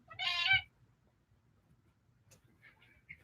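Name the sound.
cats meowing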